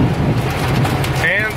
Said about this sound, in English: And the thunderings.